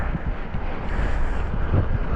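Strong gusting wind buffets the microphone on a mountain in Poland's Beskids, near Czantoria, in a steady, rumbling roar, with no voices.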